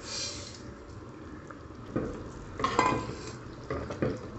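Roasted vermicelli is tipped into boiling water in a pot and stirred, giving soft bubbling with a few splashes and scraping stirs, close and fairly quiet.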